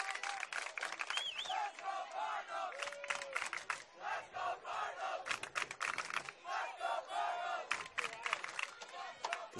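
Spectators at a CIF Central Coast Section Division II high school softball final, Gilroy versus Mt. Pleasant, chant in loud unison, rhythmic bursts of massed voices with shouts and whistles running throughout.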